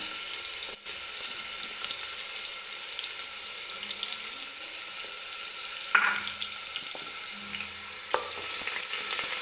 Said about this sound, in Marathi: सगळ्या भाज्या एकत्र टाकून आपल्याला फक्त तेलामध्ये 1-2-3 मिनिटासाठी परतून घ्यायच्या आहेत